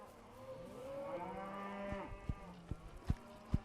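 Cattle on a ranch moo repeatedly in a low drawn-out chorus, with several calls overlapping, then a few sharp knocks sound close by toward the end.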